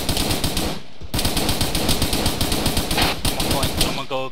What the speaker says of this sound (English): Looks like we got a machine gun up there.